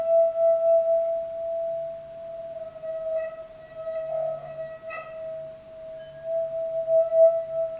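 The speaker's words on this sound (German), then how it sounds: "das volle Glas hat einen sehr tiefen Ton, während das Glas mit wenig Wasser einen sehr hohen Ton hat" Struck water glasses, each holding a different amount of water, ring out one after another, each clear tone sustaining before the next tap, the pitches rising in steps like a scale.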